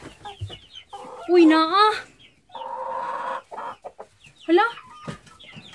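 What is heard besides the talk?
chickens clucking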